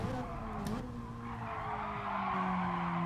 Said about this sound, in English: You hear the tyres squealing all the way through it.